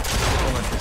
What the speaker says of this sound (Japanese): いやサブマシンガンでめっちゃ撃ってるやついるな。